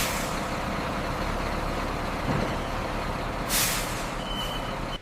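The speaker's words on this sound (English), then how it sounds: "Here at the refinery, the trucks queue around the clock, a monumental logistical challenge." Heavy trucks idle in a queue at a palm oil refinery, a steady low engine rumble filling the scene, broken by a sharp hiss of air brakes midway.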